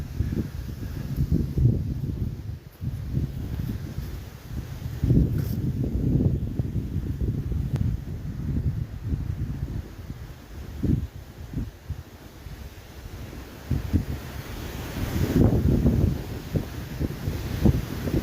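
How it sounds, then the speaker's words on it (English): Strong, gusty wind buffets the microphone outdoors by an engine shed, a constant low roaring rumble that swells and dips in loud surges throughout. "the wind's pretty strong today"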